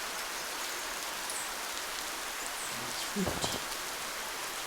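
Steady rain falls in the video game Spirittea, a soft, constant hiss of drops filling the whole clip, quiet and even, with a brief short voice and a faint bird-like chirp near the end.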